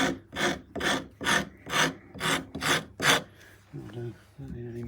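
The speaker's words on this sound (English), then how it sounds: "Let's try the big rasp this time, which is slightly overkill for this stage, but this will really rip through the timber." A big rasp shapes a timber guitar neck in seven rhythmic, close, coarse strokes, each a loud scraping rush, followed by softer scraping and handling noises.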